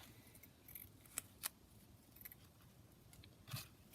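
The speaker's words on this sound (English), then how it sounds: "I'm just going to cut a piece around the teacup." Scissors cutting paper around a teacup picture for a junk journal craft, a few quiet sharp snips and rustles with short pauses between cuts.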